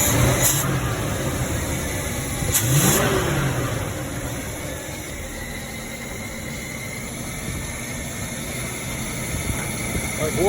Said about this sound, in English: I've warmed the engine up and it seems to be better.